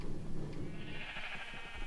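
A sheep in Minecraft lets out a wavering bleat. It is moderately loud and rises from low, rumbly noise, with no speech over it.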